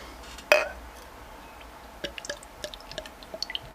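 BraufactuM beer, a dark amber brew, is poured from a bottle: a sharp clink is followed by a run of quick, close glugging and splashing pulses.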